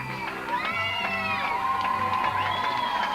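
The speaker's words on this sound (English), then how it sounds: "Well-deserved round of applause." A crowd at a Vermont Voltage versus Rhode Island Stingrays soccer game cheers and shouts with high whoops and calls, a loud sustained swell of voices with applause underneath.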